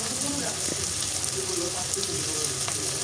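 Onions fry in ghee and oil, a soft continuous sizzle with faint crackles and light stirring, heard close and steady throughout.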